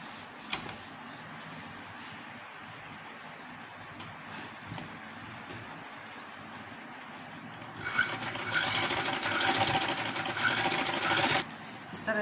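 After a quiet stretch with light handling noises, a sewing machine stitches a zip onto a fabric travel bag, running steadily and fairly close for about three seconds before stopping abruptly.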